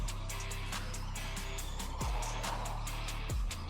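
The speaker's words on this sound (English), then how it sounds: "Love the way the tires squeal in the corners." A Traxxas Slash modified RC car racing a dirt oval track, its electric motor whining steadily with rapid pitch sweeps, and the tires chirping and squealing through the corners, close and continuous with no talking.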